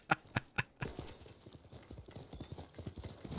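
Horse hooves clip-clop at a steady trot in Ghost of Tsushima, a run of sharp close strikes at first, then a quicker, softer rhythm continuing alone.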